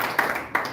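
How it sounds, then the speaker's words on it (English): Two distinct hand claps from a master class audience, brief and fairly close, with no voices. "let's give her a round of applause"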